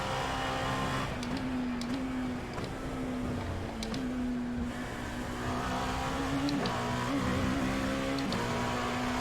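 Dallara P217 LMP2 race car engine in the iRacing sim, a steady loud drone with pitch rising and falling through gear changes and corners, heard alone without talk.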